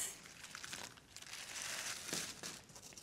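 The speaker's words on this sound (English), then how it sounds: "a carrier bag, little plastic bag." A small plastic carrier bag crinkles softly, a quiet continuous rustling and crackling that rises and falls for about three seconds, with no talking.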